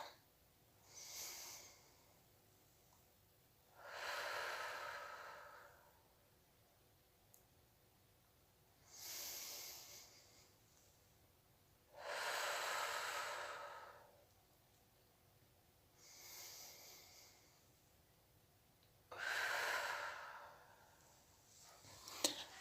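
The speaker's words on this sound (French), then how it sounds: "La respiration, c'est ça." Slow, deep breathing demonstrated in a sophrology relaxation session: six long airy breaths, close and soft, alternating inhales and exhales separated by quiet pauses.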